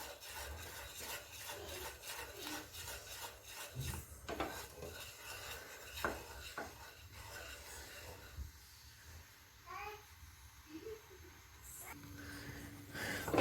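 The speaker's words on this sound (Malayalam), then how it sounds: "ഇനി ഈ ശർക്കര നല്ല ഒരു കുറുകിയ പരുവത്തിലാകണം. അതുവരെ നമുക്കിത് ഇളക്കിക്കൊണ്ടിരിക്കാം." Jaggery syrup for peanut candy is stirred in a pan, a faint rubbing and scraping that repeats in uneven strokes over a low hiss, with a few sharper knocks.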